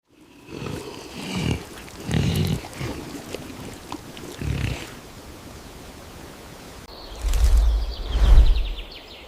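A large wild boar sow throws herself into a deep, stagnant mud wallow in the Black Forest, rolling and sliding with heavy, wet sloshing bursts that come in several surges, the loudest and deepest near the end.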